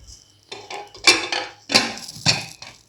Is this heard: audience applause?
no